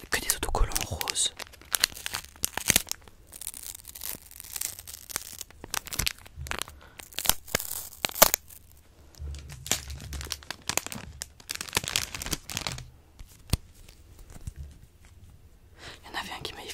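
Pink Christmas stickers for scrapbooking being handled close up, with crisp crinkling, peeling and tearing rustles in uneven bursts, quiet and intimate, alongside soft spoken or whispered talk.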